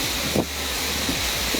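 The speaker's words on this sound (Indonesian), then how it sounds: "deras disertai angin kencang ya, di wilayah kawasan wisata Pantai Pangandaran" Strong wind sweeps across the Pangandaran beach tourist area during heavy rain, a continuous broad rushing hiss with low buffeting, heard alone without speech.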